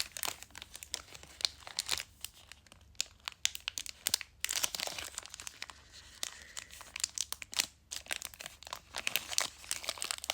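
Plastic blister pack of Pokémon-style trading cards being pried and torn open, close crackling, crinkling and ripping bursts with short pauses between pulls.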